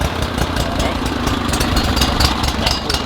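A Bad Boy ZT Elite zero-turn mower engine runs steadily at a rough, close idle with a continuous low chugging drone and no clear pause or change.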